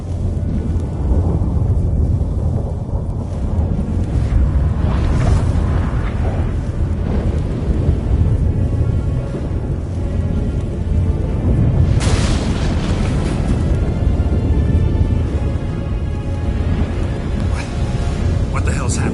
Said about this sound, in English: That a storm?